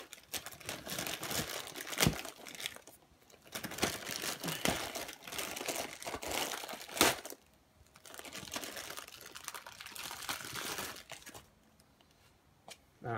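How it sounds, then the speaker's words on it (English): A Mountune high-performance cotton air filter is pulled from its plastic bag, close crinkling and rustling in uneven bursts separated by short quiet gaps. "let's get this thing out of the bag"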